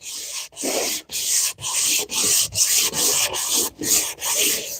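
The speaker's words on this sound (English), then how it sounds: "It's amazing what just a little bit of sanding can do." Wood being sanded by hand in steady back-and-forth strokes, about ten loud rasping passes with brief pauses between them, close up and with no talking.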